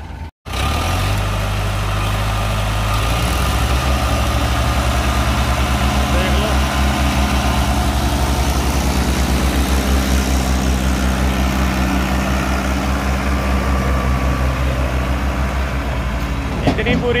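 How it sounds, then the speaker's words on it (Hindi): Two tractors, one a Mahindra Arjun 555, run together in a field to tow the stuck machine, a loud continuous low diesel drone that rises and holds for the whole stretch, with voices underneath. "दूसरे ट्रैक्टर के साथ निकालना पड़ेगा अब जोड़ के"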